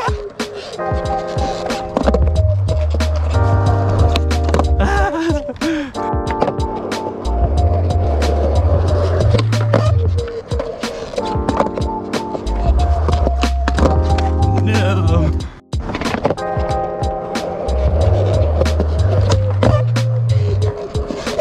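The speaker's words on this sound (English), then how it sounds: "Let's do back 180, fakie big spin, and then kick flip or tray flip would be a nice one to end it off with" Skateboard wheels roll on pavement during a run of back 180, fakie big spin and kickflip, with repeated rolling rumbles, sharp board clacks and thuds, and music playing throughout.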